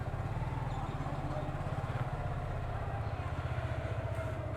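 A Suzuki Gixxer FI Disc motorcycle is ridden, its engine giving a steady low rhythmic drone, loud and close, with wind noise over it.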